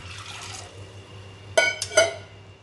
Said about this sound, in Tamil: இப்போ பருப்பு போட்டு இதுக்கு தேவையான தண்ணி ஊற்றிக்கோங்க.